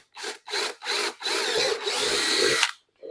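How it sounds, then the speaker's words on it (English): A power drill whirs in three short bursts, then runs longer as it bores through wood, close and loud, ending with a brief restart. "So we're drilling a hole like so"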